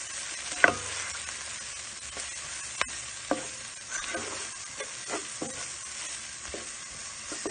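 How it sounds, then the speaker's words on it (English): Creamy spinach pasta with seasonings stirred in a pan, spoon scraping and clinking in scattered strokes over a soft steady sizzle, close and moderately quiet with no talking. "Now I'm going to start mixing everything together."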